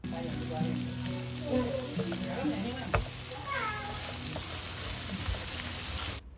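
Half-cooked egg is stirred with spring onion in a pan, producing a soft, steady frying hiss with scraping strokes and faint tonal sounds in the background.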